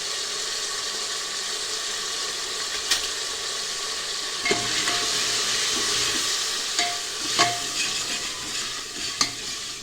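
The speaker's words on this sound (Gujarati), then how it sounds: "સરસ બધા મસાલા મિક્સ થઈ ગયા છે." Potatoes and peas with turmeric, red chili and coriander-cumin powder stirred in a pan, with a steady hiss of frying and periodic sharp clinks and scrapes of a spoon as the spices are mixed through, with no talk.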